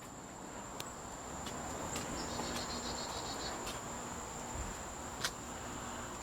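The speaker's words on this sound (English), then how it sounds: "I hear something buzzing. It's probably the marquee light." The marquee light of a Heavy Barrel arcade cabinet, its bulb burnt out and glowing only at the ends, gives off a steady, faint electrical buzz with a high whine and occasional soft clicks. No voices.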